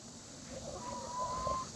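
Chickens cluck softly inside a backyard Guardian coop, a brief quiet burst of fowl calls with no talking.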